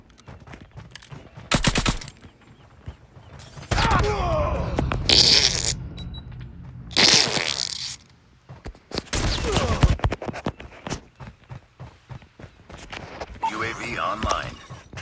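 Rapid bursts of nail gun fire in the mobile shooter game Call of Duty Mobile, loud clustered volleys separated by quieter gaps, with in-game voice callouts between them.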